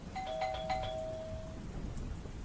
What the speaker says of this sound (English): A minute later though, the doorbell rang again.